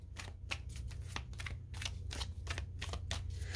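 Tarot cards being shuffled for one last draw, a run of crisp riffling flicks and taps in quick irregular bursts, close and clear with no voices.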